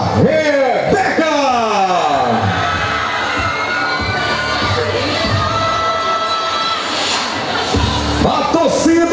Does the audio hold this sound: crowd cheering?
yes